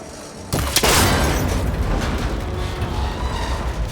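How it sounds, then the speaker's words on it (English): A cable connector breaks under a gunshot in Horizon Forbidden West: silence, then a sudden loud crack and burst that rolls into a rumbling, clattering decay lasting several seconds. "That connector's holding the cables together. It should break if I shoot it."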